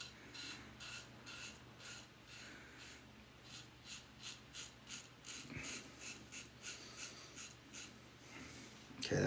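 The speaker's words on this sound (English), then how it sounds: "Let's see if this cheap 99-cent razor can shave a week's worth of hair off." A cheap 99-cent razor shaving a week's worth of stubble, quiet close scraping strokes repeating in a steady rhythm of short rasping pulses, with no talk.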